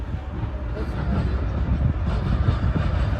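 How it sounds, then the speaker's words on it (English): A CSX eastbound manifest freight train passes on the main line at Fostoria, Ohio, producing a steady, loud, broadband rumble with rolling rail noise throughout. "another CSX train comes into view on the main"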